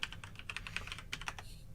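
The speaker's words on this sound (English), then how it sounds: "He disappears in the back, and you hear keys clicking." Rapid, uneven clicking of computer keyboard keys as someone types on a personal computer, a steady close patter of keystrokes with no talking.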